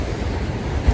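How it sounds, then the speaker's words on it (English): Water rushing over a large dam at a fish hatchery, heard from a distance as a steady, loud broadband roar with no voices. "That water sounds so powerful even from this far away."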